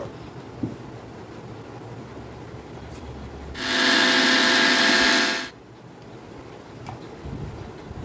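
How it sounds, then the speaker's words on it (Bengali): Mixer grinder jar grinding leftover bread pieces into crumbs, one loud whirring burst of about two seconds, with quiet handling noises before and after. "একটা মিক্সির জারের মধ্যে আমি এই পাউরুটির টুকরোগুলোকে দিয়ে আমি এটাকে গুঁড়ো করে নেব।"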